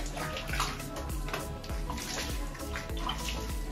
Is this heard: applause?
no